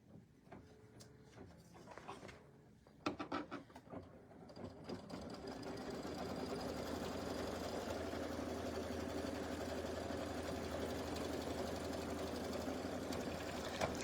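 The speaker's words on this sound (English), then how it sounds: "All right, so we're going to tack this down." Home sewing machine tacking down decorative stitching on holiday fabric, starting with a few short, uneven bursts and then running as a steady, continuous mechanical whir at close range with no talk.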